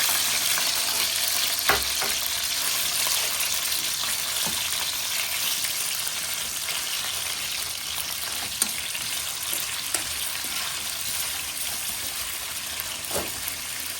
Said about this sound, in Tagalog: Lagyan natin ng mantika para iprito natin yung squid balls.